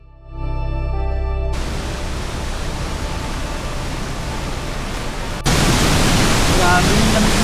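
Strong, steady roar of water pouring down at Tapia Falls near the Batad rice terraces in Banaue, Ifugao, broadband and continuous, swelling louder near the end with faint voices faintly underneath.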